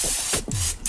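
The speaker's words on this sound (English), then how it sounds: "Then you want to turn them over and spray them again." Short bursts of cooking oil spray hiss onto marshmallows in a pan, a few quick close spritzes in a row.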